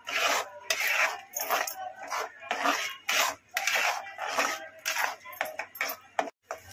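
Masala for veg kolhapuri is stirred in a pan, with repeated close, rasping scrapes of a spoon across the pan in an irregular rhythm and a faint sizzle between the strokes.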